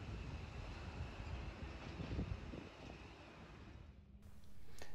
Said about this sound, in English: A nicely timed Tangara train in the background there.